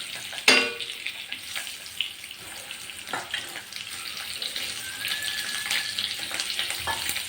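Capsicum sautés in a pan with a soft, steady sizzle, broken by a sharp clatter at the start and a few stirring knocks, quiet and close with no speech.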